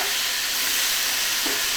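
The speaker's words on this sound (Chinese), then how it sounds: "大火爆炒" Squid, onion and green pepper stir-fried over high heat in a home kitchen wok with ginger, garlic and pickled chilies, giving a steady, dense sizzling hiss that stays close and even throughout.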